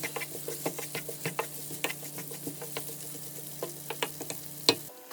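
Sliced onions fry in a pan with methi and mustard seeds for a potato egg curry, giving a steady low sizzle broken by frequent soft stirring scrapes and clicks, close and fairly quiet, with no talk.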